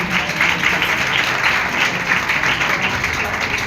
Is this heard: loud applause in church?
yes